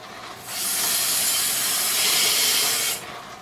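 A burst of running water rinses grit off items in a sink, a bright hissing spray that starts abruptly, holds steady for about two and a half seconds, then cuts off.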